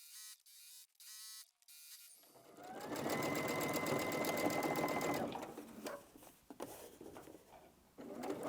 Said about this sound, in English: So let's just go and sew our final seam, and then our pillowcase will be done.